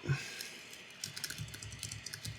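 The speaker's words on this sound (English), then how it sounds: "we're just gonna type out" Keys patter on a computer keyboard in a quick, quiet run of light clicks lasting a couple of seconds, close by with no voices.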